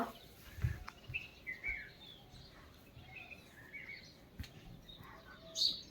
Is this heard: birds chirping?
yes